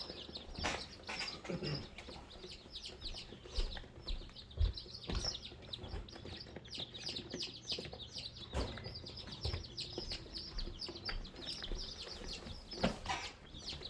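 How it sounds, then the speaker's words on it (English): Several young chicks peep and cheep in a small group awaiting Marek's vaccination, with steady high chirps throughout, close by and moderately loud, alongside occasional thumps and shuffling. "I only have a few chicks here to vaccinate, as you can see"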